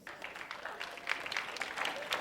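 A studio audience on a comedy show applauds to vote for a contestant called Pizza Boy, a fairly faint, short burst of crowd clapping that swells slightly toward the end.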